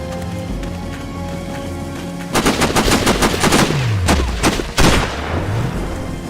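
Rapid gunfire from the video game Sniper Ghost Warrior erupts after a quieter stretch: dense, loud bursts of shots crackling continuously, with swooping whooshes passing through the barrage.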